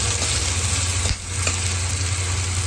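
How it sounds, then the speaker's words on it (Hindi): Finely chopped green chilies sizzle steadily in hot oil in a pan for a Rajasthani-style kadhi, a loud continuous frying hiss with a brief stir partway through and no voices. "अब मैंने इसमें कटी हुई बारीक हरी मिर्च डाल दी है और इसको थोड़ी देर फ्राई करेंगे"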